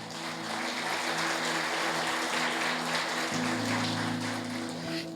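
A congregation in a church claps together in sustained, even applause, a dense patter that continues throughout, with a steady organ or keyboard tone underneath and no talk.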